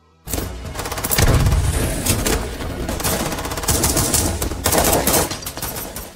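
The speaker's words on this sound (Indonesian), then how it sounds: "terjadilah aksi tembak-tembakan" Dense, sustained gunfire with rapid bursts and heavy booming impacts, loud and continuous throughout like a chaotic shootout in a gangster film, with no speech.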